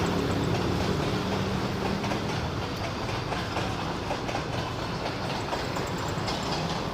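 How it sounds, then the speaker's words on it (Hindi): A train crosses the Aik Moria bridge in Lahore, giving a continuous loud rumble with rhythmic clickety-clack from the wheels on the rails as the carriages roll past. "ये एक मोरिया पुल के ऊपर से जो है वो ट्रेन गुजर रही है।"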